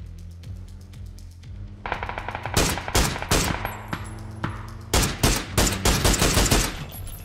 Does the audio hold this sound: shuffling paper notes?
no